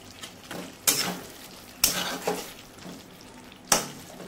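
Chillies drop into pointed gourd frying in hot oil, giving three sharp sizzling bursts that fade into a steady low crackle between them, close and fairly loud.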